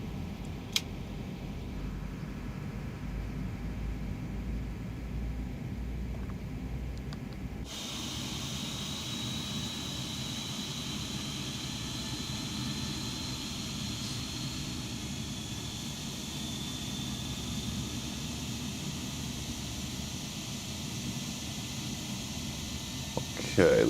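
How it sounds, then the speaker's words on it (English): Simulated Boeing 737 MAX 8 engines start up with a steady, rising jet whine over a low rumble. The tone shifts partway through as the engine spools, continuing loud and sustained. "Engine number 2 will get started up."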